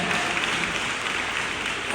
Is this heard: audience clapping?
yes